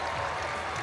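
Crowd at a college wrestling match in Virginia Tech's Cassell Coliseum, roaring and cheering steadily throughout, dense and loud without a break.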